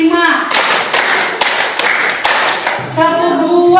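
A room of people claps together on a counted pattern, five or six loud rhythmic bursts, with a voice calling the count before and after the claps.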